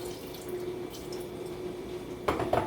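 About a quarter cup of lemon juice is poured into a vegan cheesecake mixture, a short soft splashing trickle that arrives near the end after a quiet stretch, with no talking.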